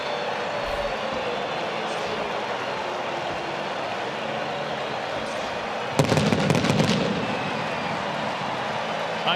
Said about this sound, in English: that fella lighting the fireworks ought to just keep setting them off for about the next 10 minutes